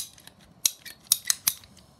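A handheld PVC pipe cutter snips through the plastic edge of a reducing fitting while a Venturi is being made, giving four or five sharp, close crunching clicks at an uneven pace, with no talking.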